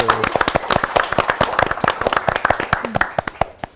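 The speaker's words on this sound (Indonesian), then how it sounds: "Tepuk tangan." An audience claps steadily to welcome a guest, a dense run of sharp, close handclaps that fades toward the end.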